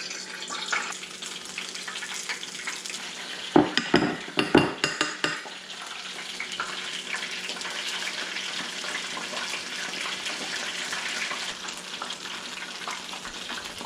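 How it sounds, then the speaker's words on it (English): Pieces of freshly caught halibut dropped into hot grease: a burst of clattering and splashing bubbles, then a steady close crackling sizzle of frying that carries on alone with no talk. "Go ahead and drop them in the hot grease"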